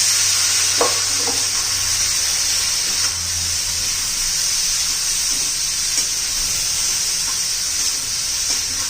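Chopped ridge gourd with onion-garlic masala, turmeric and salt being stirred in a hot pan, producing a loud, continuous close-up sizzle and hiss with a few soft scrapes of the spoon, no talking.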